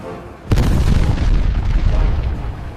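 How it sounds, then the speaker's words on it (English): A sudden heavy boom breaks in, followed by a dense, continuous roar of rapid 20mm cannon fire and explosions from both riverbanks at night, loud and rumbling, in a WWII St. Nazaire Raid toy soldier battle. "every 20mm flat cannon on both sides of the river opens up in a single, deafening roar"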